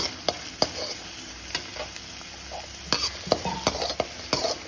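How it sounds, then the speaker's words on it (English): Tomatoes and garlic fry in a pan for a lady finger vathakuzhambu, a soft steady sizzle broken by repeated sharp spoon scrapes and taps as the mix is stirred, close and fairly quiet. "we will add tomatoes with it and cook it, fry nicely until it becomes mushy"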